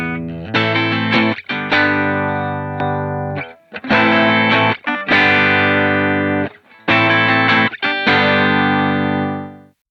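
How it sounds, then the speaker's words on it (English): Electric guitar through a King of Tone pedal with light overdrive, strummed chords in several loud, sustained phrases with brief breaks, gritty and compressed, no talking. "I leave the overdrive on almost all the time. And it's not a lot of overdrive"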